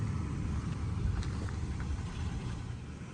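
A third-generation Toyota Tacoma pickup's engine runs at a steady low rumble, close by, with no talk over it.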